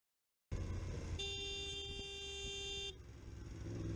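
A car horn blares in a steady, sustained honk of nearly two seconds amid road traffic noise, heard during a motorcycle road-rage encounter, with engine rumble continuing before and after.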